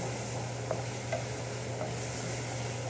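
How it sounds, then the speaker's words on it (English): Ginger and garlic sautéing in a pan for chilli cauliflower, a steady close sizzle over a low hum with a few light spoon taps, no talk. "I'm gonna give it a quick saute"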